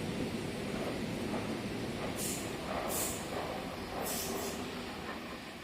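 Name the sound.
8-car Oscar train passing through station platform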